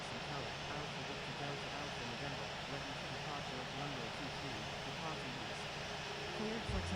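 A light aircraft in a flight simulator holds a steady, continuous engine drone throughout its takeoff roll, with no clear breaks.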